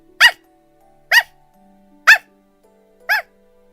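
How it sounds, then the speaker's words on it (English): A dog gives four sharp, evenly spaced barks about a second apart, close and loud against near silence. "you look back to see the dog bark happily at its owner"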